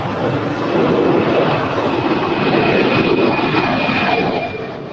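Boeing 767 airliner at LAX airport produces a loud, steady jet engine roar with a thin high whine, sustained for a few seconds before easing slightly.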